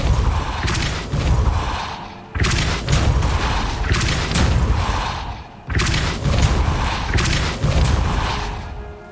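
A Depulso force spell is cast in the video game Hogwarts Legacy, producing loud, booming bursts with whooshing rushes in three repeated waves, each ending in a short drop before the next blast.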